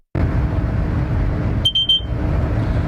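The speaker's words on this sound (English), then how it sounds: "That noise you just heard was a system called a VACMAR" A train driver's vigilance alarm, part of the dead man's handle system, sounds inside a cab as two short, sharp, high beeps close together over a loud, steady engine and running rumble.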